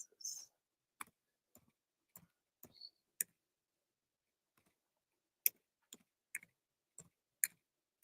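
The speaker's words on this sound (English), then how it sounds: "so give me just a minute because I'm typing this in." Computer keyboard typing at a desk: sparse, scattered keystroke clicks spread over several seconds, with quiet gaps in between and no talking.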